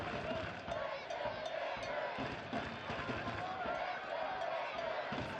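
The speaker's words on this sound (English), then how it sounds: "You hear the crowd chanting Richmond Kickers, trying to will their club to a late goal" A stadium crowd at a Richmond Kickers professional soccer match chants steadily in the late minutes of play, a dense, continuous roar with rhythmic rising tones that carries on throughout.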